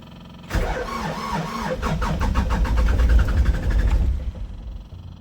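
Doosan DX35z mini excavator diesel engine cranked with the key, a rapid rhythmic churning of the starter that catches into a rough, loud running engine, then the cranking cuts off, close by with no talk.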